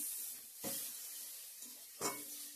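Whole spices tempering in hot oil in a pan, bay leaf, dry chilli, panch phoron and garlic, give a quiet steady sizzle broken by two brief louder bursts of spattering or stirring.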